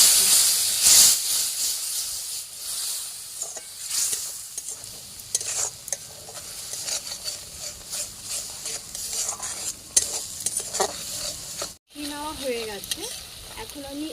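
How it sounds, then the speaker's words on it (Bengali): A spice paste sautéing with a little water hisses and sizzles in a pan under repeated stirring and scraping, steam bursts rising and falling, close by with faint background voices. "এখন আমি অল্প অল্প জল দিয়ে এই মশলাটাকে কষিয়ে"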